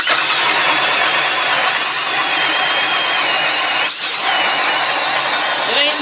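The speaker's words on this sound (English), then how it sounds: "we're gonna drill holes and we're gonna fish." A power ice auger, not a Milwaukee, drills holes in lake ice for walleye fishing. Its engine whines loud and steady for several seconds, dipping briefly midway, with voices underneath.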